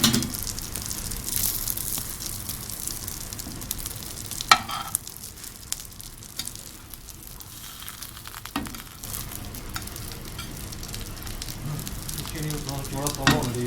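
Oil sizzles and crackles in a pan while an egg burger cooks, a continuous fry with a few sharp pops and clatters. No one speaks over it.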